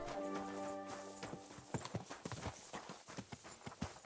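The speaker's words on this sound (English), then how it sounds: "Maybe I should call my horse." A horse in the Kingdom Come Deliverance 2 video game whinnies at the start, then its hooves clip-clop in a quick, steady rhythm as it approaches, fairly close and clear.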